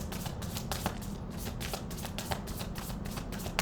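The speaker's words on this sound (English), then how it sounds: "We just shuffling these cards." Tarot cards being shuffled by hand, a steady run of soft riffling flicks and taps close up, fairly quiet with no voices.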